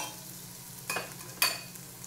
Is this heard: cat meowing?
no